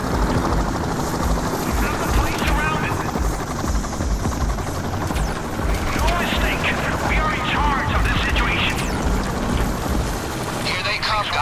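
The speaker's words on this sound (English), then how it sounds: "Choppers and SWAT vans all over the place around you." Helicopters arrive over a police assault in the video game Payday 2, with a steady, loud rotor roar that fills the whole stretch amid dense, continuous game noise.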